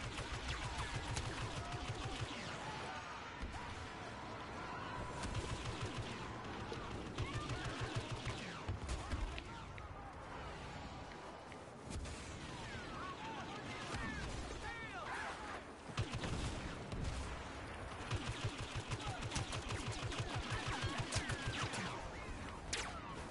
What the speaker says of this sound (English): I got sniped again